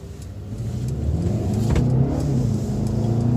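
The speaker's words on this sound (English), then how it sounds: "You do hear this engine, but you actually want to hear it because it sounds so good" Engine of a 2019 Mercedes-Benz A 250 hatchback with 4MATIC, a close, steady mid-pitched drone that swells slightly as the car accelerates, heard alone without voices.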